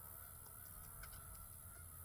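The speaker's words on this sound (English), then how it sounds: "there's like 100 geese in the pond down there" Geese honk on a pond, faint and distant calls rising over a dense, steady outdoor background noise.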